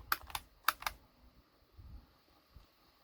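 Plastic clicks from the life point counter buttons on a Yu-Gi-Oh duel disk toy, four quick sharp clicks in two pairs near the start, then soft handling noise.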